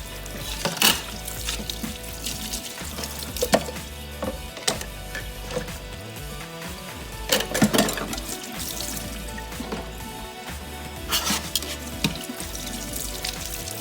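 A kitchen sink tap runs while dishes are rinsed under it. Water splashes and trickles in bursts, mixed with light clinks and handling noises, close by and fairly quiet.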